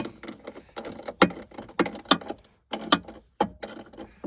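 Hand-tightening screws while installing an OEM center console in a Toyota Tundra gives irregular clicks and ratcheting mechanical rattles in short bursts, close by, with brief pauses between and no talking.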